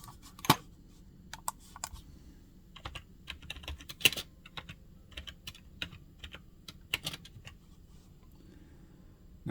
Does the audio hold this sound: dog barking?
no